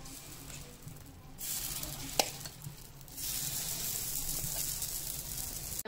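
Ragi appe batter sizzles in oil in an appe pan, a steady broadband hiss that swells louder partway through as more batter is poured in, with a single sharp clink and no speech.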